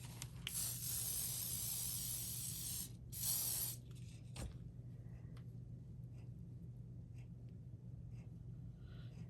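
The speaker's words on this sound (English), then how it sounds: "And then we'll spray it with some hairspray." Hairspray hisses from an aerosol can onto a small craft gnome's broom in two close bursts, a long spray then a shorter one, followed by faint handling noises over a low steady hum.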